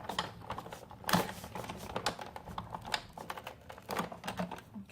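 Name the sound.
Big Shot die-cutting machine cranking card through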